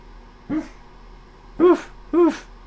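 An old dog gives three short, muffled barks while asleep indoors. One bark comes alone, then two follow closely after a pause.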